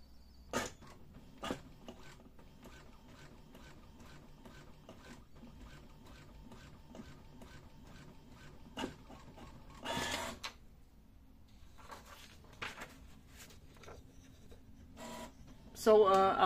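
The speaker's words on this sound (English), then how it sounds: "Let's say we want to clean all of the colors, we press the color start button." A Brother DCP-T220 inkjet printer cleans its printhead, giving faint, intermittent mechanical clicks and soft whirs over a quiet hum, with a louder burst of motor noise at the very end.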